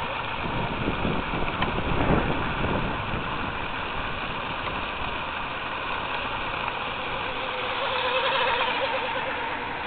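A small RC outrigger hydroplane boat with a 10 gram motor on 3S power runs steadily across water on a windy day, a continuous high-pitched buzzing whine that swells slightly as it passes, mixed with wind noise on the microphone.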